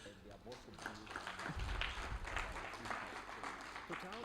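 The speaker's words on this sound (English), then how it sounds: "I first of all want us to give a big hand clap to Rosette." Faint clapping from attendees at a supplier development forum, swelling briefly in the middle while people talk over and around it, all heard at a low, distant level.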